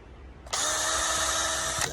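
A power drill drives small screws into a door in a home garage. It whirs up abruptly and holds a steady high whine for just over a second, then stops, close to the microphone with no talking.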